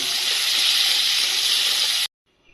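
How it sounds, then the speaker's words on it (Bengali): Onions frying in hot oil over a high gas flame, browning for an egg korma, give a loud, steady broadband sizzle with no voices, then cut off abruptly to near silence near the end. "পেঁয়াজটা আমি এই যে ভেজে তুলেছি একটু লাল লাল করে ভেজেছি"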